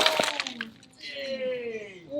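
Glass breaks as a silver bar is dropped on it, with sharp cracks and tinkling shards at the start, then a lingering ring of settling fragments under a voice.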